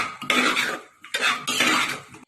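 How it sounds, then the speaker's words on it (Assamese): A spoon scrapes and clatters in a pot of chickpea dal with vegetables, loud close bursts of stirring broken by a short pause and ending abruptly. "এনেদৰে আপুনি 2 মিনিটমান লৰাই থাকক"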